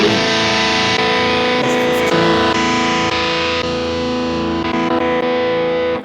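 Overdriven electric guitar chords ring out through a crunchy AC30 amp model on a Vox Tonelab SE, sustained and loud, with no voices.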